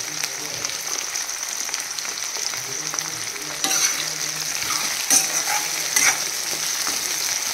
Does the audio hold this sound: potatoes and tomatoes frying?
yes